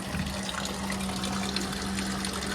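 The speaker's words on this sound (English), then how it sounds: "water flows into the top of the reservoir, flows down through the media" Water pours and trickles steadily down through Aspen media panels of a running Champion evaporative swamp cooler, a continuous close splashing wash with a faint low hum beneath and no talk.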